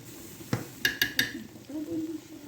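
A spoon stirs pork stew in a metal pot, a few bright clinks and knocks against the rim in quick succession, then a softer scrape and low bubbling, close and brief.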